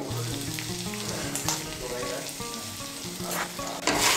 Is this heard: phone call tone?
no